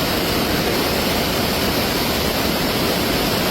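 A rising river rushes past a bathing spot, its water volume swelling by the second; a loud, steady, unbroken roar of broadband rushing water fills the whole stretch, with no voices.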